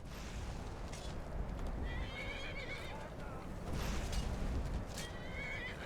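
A horse in Skyrim whinnies loudly again and again while attacking an enemy, its neighs rising over thudding, busy combat noise throughout.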